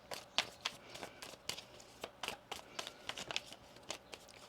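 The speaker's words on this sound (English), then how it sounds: "Let's get one more shuffle here." Tarot cards are shuffled by hand in a quiet room, a close, soft series of crisp riffling flicks and taps in an uneven rhythm, with no talking.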